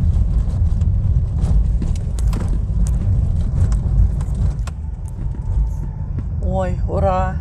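A car drives the dusty, unpaved Shaumyan mountain pass road, its engine and tyre rumble loud and continuous, with a voice speaking near the end.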